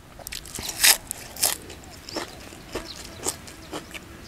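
Crisp, close crunching as someone chews a spicy Isan-style squid salad (koi) served with vegetables: several sharp bites with gaps between them, loudest early on, with no talk.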